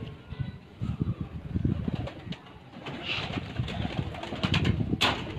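Pigeons on a Sheikhupura rooftop loft, giving low soft cooing and occasional rustling in a busy outdoor scene, with faint flapping and other birds mixed in and no clear speech.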